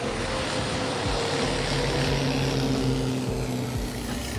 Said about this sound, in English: The fact that I was able to get that plane flying by at that zoom is pretty impressive.